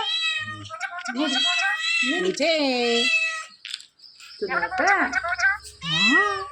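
A cat meows several times, its calls tangled with the talking voice of a pet parrot, while a person speaks in Malayalam throughout.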